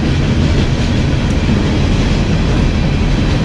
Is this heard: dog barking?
no